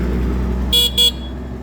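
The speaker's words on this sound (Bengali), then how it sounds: "তারপরে আপনার হচ্ছে হর্ন" A Yamaha RX 100 motorcycle horn beeps twice in quick succession, short bright honks over a low idling engine rumble.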